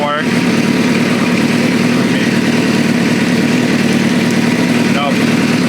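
A motorcycle engine running steadily at idle, a loud, continuous mechanical rumble close by, with someone talking over it.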